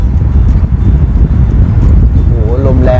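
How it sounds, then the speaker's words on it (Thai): A large electric fan with big blades running on its second speed setting, giving a loud, steady rush of moving air that roars broadband and buffets the microphone, with a brief rising tone near the end. "ลมแรงมากครับตัวนี้เป็นพัดลมตัวใหญ่นะครับใบใหญ่"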